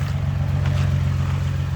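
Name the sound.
Nissan 350Z engine running after engine swap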